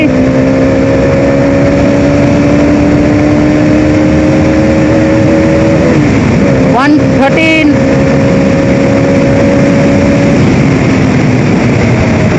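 A Bajaj Dominar 250 motorcycle cruising fast with a steady, close engine drone and rushing wind noise, its pitch dipping briefly midway before holding again, while a rider speaks a few words.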